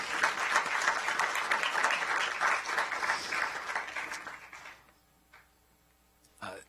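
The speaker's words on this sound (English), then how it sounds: "I'd like to just give you one more round of applause because you were awesome." An audience applauds, the clapping dense and sustained for several seconds before it tapers off into near silence, followed by one faint knock and a short burst of noise at the end.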